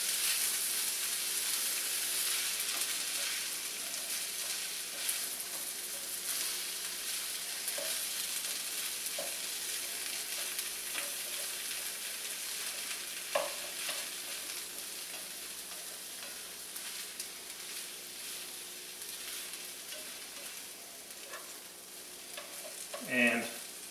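Pork fried rice with peas sizzles steadily in a pan for a long stretch, with intermittent scraping and stirring clacks. A louder clatter comes near the end, and no speech is heard.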